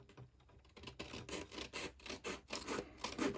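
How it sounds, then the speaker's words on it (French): A blade cuts sixteen small squares for a double transparent frame craft, making a run of short rasping, scratching strokes at close range in an irregular rhythm, with no talk over them. "Et alors là, je viens couper mes 16 petits carrés"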